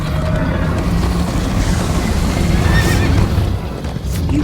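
A horse gallops with a rapid clip-clop of hooves and gives a whinny in the video game Minecraft: Story Mode, loud and close, the hoofbeats running steadily throughout.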